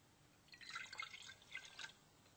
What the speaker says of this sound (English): And I'm going to mix the alcohol with the water.